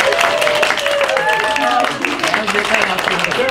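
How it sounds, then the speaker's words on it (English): A crowd at an anime convention cosplay contest applauds with dense, steady clapping, mixed with cheering voices and some talk layered over it. "let's give them a round of applause"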